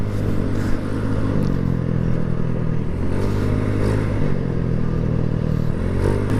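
Several motorcycles ride fast close behind on a banking road near Tagaytay, their engines forming a continuous loud, dense buzzing roar with clattering texture throughout.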